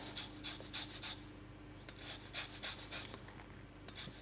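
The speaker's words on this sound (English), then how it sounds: "Microplanes are one of the best zesters that you can buy." A lime is zested on a microplane zester, with quick rhythmic scraping strokes in short bursts separated by brief pauses, close and quiet.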